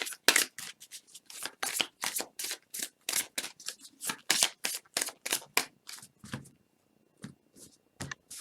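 Oracle cards are shuffled by hand in a steady run of quick, crisp slaps and riffles, about twenty close, fairly loud strokes that thin out toward the end.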